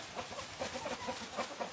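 A fighting rooster in a village in Isan, Thailand, gives a quick series of faint, repeated clucks over a light background hiss.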